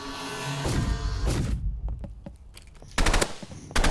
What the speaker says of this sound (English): Okay, next weapon, the burst rifle.